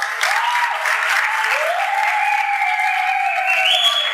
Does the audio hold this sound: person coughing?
no